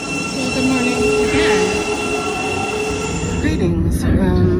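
Train to Gatwick running on rails, a loud steady rumble with wheel squeal and rail noise filling the whole span, with a voice faintly under the din.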